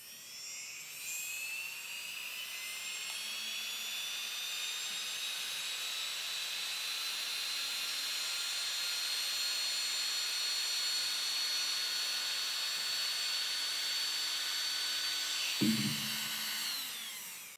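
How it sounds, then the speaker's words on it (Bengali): A 775 DC motor running at 12 volts gives a high, steady electric whine that rises in pitch, then ends with a brief clunk as it slows and stops. "আমার কাছে যে ৭৭৫ ডিসি মোটরটা আছে এটার আরপিএমটা আমরা চেক করব।"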